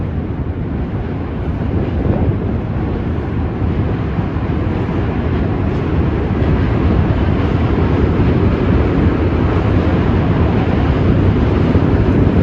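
Subway trains (B, D, Q and N lines) rumble across the Manhattan Bridge overhead, a steady, loud, low roar that holds throughout with no pauses and no voices.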